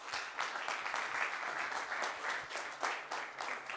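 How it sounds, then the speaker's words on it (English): Audience applause for forum panelists at an insurance risk and opportunity forum, dense continuous clapping at a steady level for several seconds with no talk over it. "Round of applause"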